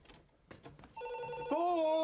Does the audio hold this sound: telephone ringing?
yes